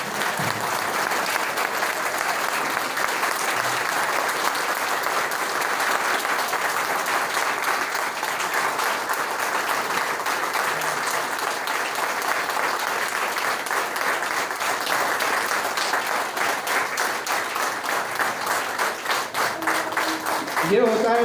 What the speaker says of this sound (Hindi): हम सभी लोग अपने अपने जगह पर खड़े होकर जोरदार कम से कम 30 सेकंड तक तालियां बजाकर इस महान व्यक्ति का सम्मान करें।